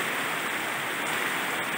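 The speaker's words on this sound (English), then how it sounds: "and now the rain has come" Steady rain falls on a farm in the Philippines, a constant broadband hiss with no breaks, even and fairly close, with no voices.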